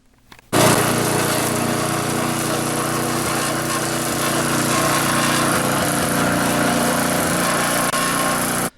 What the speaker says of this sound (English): I crank up the old lawnmower and start into it